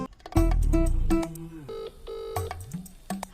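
A phone call placed from a village home in Fulera, heard as a short burst of dialing tones followed by ringback tones in a steady repeating pattern, fairly close and with no talking.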